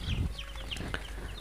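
Tiger breed chickens on a farm in Bakshiganj, Jamalpur, giving short, faint clucks and chirps in quick succession, with a low rustle close by.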